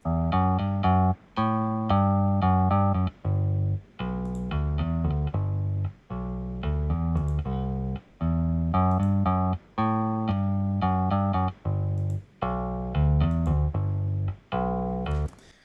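Electric bass playing a repeating riff of sustained notes with short gaps, played twice, without then with a compressor; the second pass sounds a bit more even in level.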